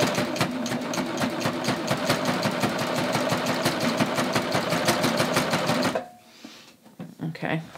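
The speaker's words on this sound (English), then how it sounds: "I'm going to gradually start serging and cutting off so I'm getting to this line." A serger sewing machine stitches and trims fabric along a garment neckline, running in a loud, fast, steady mechanical chatter for about six seconds before stopping, followed by faint handling noises.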